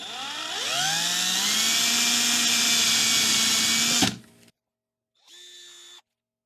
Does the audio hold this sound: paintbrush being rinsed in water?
no